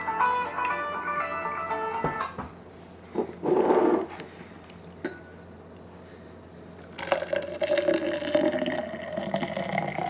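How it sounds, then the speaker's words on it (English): Raw eggs slide and plop into a highball glass without ice, heard as a few soft liquid glugs and drips among quiet clinks and faint kitchen noise. "So we're gonna pour into a highball glass."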